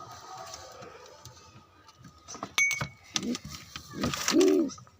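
Pigeons coo in short, low, rounded bursts at a nest spot, growing louder toward the end over faint background noise and a few sharp clicks.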